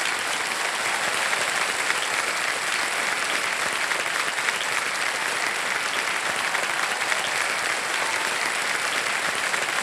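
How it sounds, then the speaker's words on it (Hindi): Loud, sustained applause from a studio audience on the KBC quiz show fills the room, dense and even throughout with no gaps and no talk over it. "तालियां बजती रहे"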